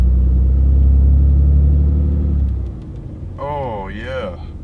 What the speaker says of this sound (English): Oh yeah, that sounds so much better.